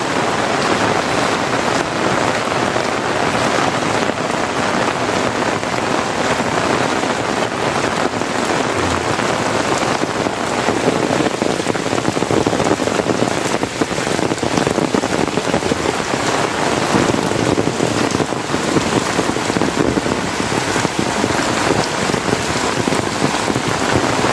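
Heavy monsoon rain pours steadily in the Konkan countryside, a dense, unbroken hiss of downpour on surfaces and flooded ground, loud and close throughout with no voices.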